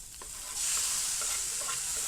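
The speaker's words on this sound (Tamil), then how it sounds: "இதை வந்து நல்லா ப்ரௌனாக வதக்கி எடுத்துக்கலாம்" Onions sautéing in a pan for mutton keema gravy, a soft hiss that swells into a steady bright sizzle after a moment, with a few faint stirring taps, close and alone.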